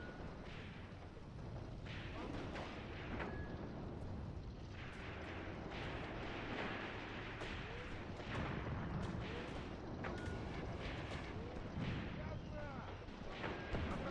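Tank gunfire in the World War II game Graviteam Tactics: Mius Front, Battle of Leningrad, with repeated heavy booms and rumbling blasts over a constant roar of battle, while someone talks throughout.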